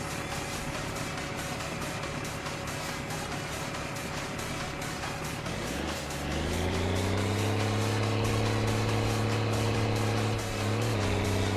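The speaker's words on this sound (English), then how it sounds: "Sorry for the engine noise." A van's engine in My Summer Car drones and labours, rising in pitch about halfway through as it strains in a changed gear, then holding a loud, steady tone.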